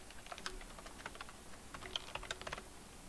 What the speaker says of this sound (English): I almost out of habit just hit M when I'm typing instead of F